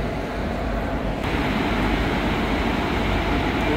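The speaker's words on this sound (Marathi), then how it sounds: "समोरनं एक ट्रेन आले मुंबईला जाण्यासाठी." A Mumbai-bound train passes in the opposite direction on the Konkan Railway, a loud, dense, steady rumble heard from inside a moving passenger train, swelling slightly as it goes by.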